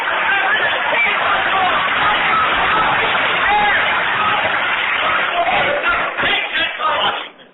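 A studio audience applauds steadily, a dense sustained patter that fades out near the end, heard through a band-limited radio broadcast.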